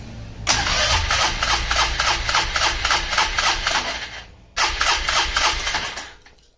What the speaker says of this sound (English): Getting nothing with choke or with throttle.